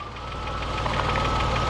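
A Renault Safrane V6 biturbo idles close by, a steady, dense mechanical rumble with a faint rhythmic ticking and a constant whine, holding even and fairly loud throughout without any voices.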